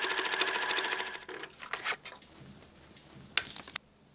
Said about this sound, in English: Top stitch center seam.